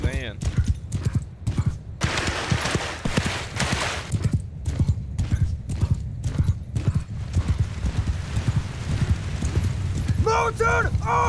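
Horse hooves clip-clopping in Mount & Blade 2 Bannerlord, a close, rhythmic stream of hoofbeats through most of the stretch, with a horse whinnying near the end and someone talking over it.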